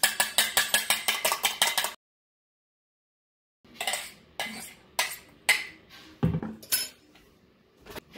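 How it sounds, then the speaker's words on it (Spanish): A fork or whisk beats raw egg in a bowl for chicken tenders, giving about two seconds of quick, steady clinking strokes. After a silent gap, scattered clinks and knocks of utensils on dishes follow, close and with no voices. "aquí ya tengo el huevo, simplemente lo voy a revolver"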